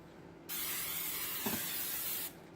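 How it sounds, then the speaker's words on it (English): Cooking spray hisses onto a pan in a kitchen, one continuous close burst lasting nearly two seconds that starts and stops abruptly, with quiet room tone before and after. "I'm going to give my pan a spray."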